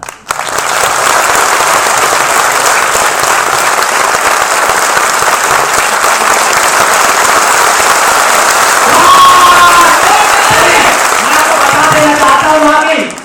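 Audience applause at a live stand-up comedy show, loud sustained clapping from a large crowd filling the room throughout, with some cheering and voices rising near the end.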